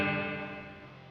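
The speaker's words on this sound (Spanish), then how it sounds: "and Iron Barrel reverb." A shouted vocal soaked in a metallic Iron Barrel reverb effect, a single sustained ringing tone that slowly decays over about a second, heard alone.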